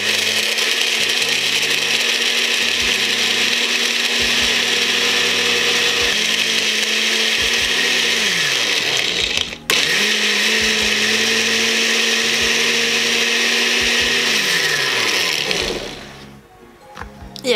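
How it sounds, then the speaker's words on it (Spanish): Blender whirring steadily while mixing a creamy coffee and chocolate Starbucks-style merengada, loud and continuous with shifting pitch, a brief cut near the middle, then winding down at the end. "Ahora que tenemos todos nuestros ingredientes, vamos a licuar."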